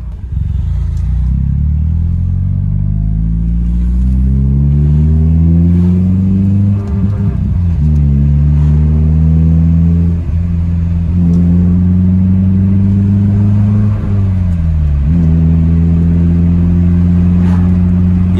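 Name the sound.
BMW E30 exhaust sound while driving, after exhaust mod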